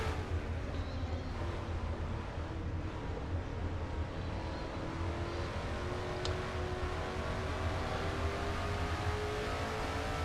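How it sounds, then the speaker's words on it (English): Race car engines drone steadily in a NASCAR video game race at North Wilkesboro Speedway, a continuous, moderately loud engine hum with gently shifting pitch as the cars come off a turn. "Quentin out for a nice Sunday drive at North Wilkesboro Speedway here as he comes off the second turn."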